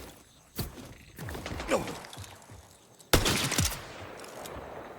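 Sniper rifle fire in Borderlands 4: two heavy, echoing shots a few seconds apart, the second louder and followed by a ringing tail over the game's background noise.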